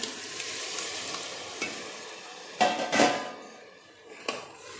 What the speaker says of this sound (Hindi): पूर्ण भाजी मिक्स करून घेऊया आपण